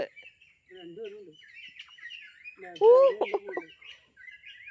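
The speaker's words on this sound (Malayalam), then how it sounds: "പിന്നെ അവിടെ പരുന്ത് കരയുന്നുണ്ട്" Thin, wavering kite calls ring out from a distance, a few separate whistling cries with quiet gaps, one louder warbling call near the middle.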